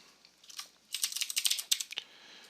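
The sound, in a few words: typing code on computer keyboard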